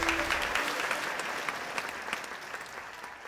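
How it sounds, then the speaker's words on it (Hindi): Audience applause fills the space at a moderate level, a steady wash of clapping that slowly thins toward the end, with a brief voice at the start. "जोरदार तालियां गाइस"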